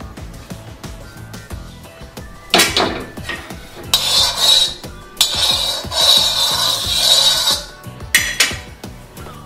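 Metal utensil scraping and clattering on an iron griddle pan while oil is spread across it for thalipeeth-style chival, with loud rasping bursts and clinks in irregular bouts, close up and without talk.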